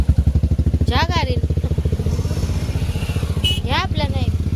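A motorbike engine idles and revs with a rapid, steady thumping pulse close by. A voice sounds briefly, and a couple of higher whine-like sweeps rise over the engine.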